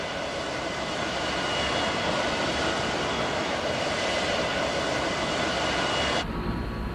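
A Tupolev Tu-144 supersonic transport roars on takeoff, a loud, steady wall of engine noise that holds throughout before cutting off abruptly near the end.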